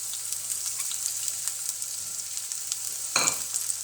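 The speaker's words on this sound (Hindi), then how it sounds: "इसमें अपने जो हमने प्याज काटे थे वो डालेंगे।" Oil hisses steadily in a pan over a medium flame, then a louder sizzling burst comes as chopped onions for chicken samosa filling hit it near the end; no voices.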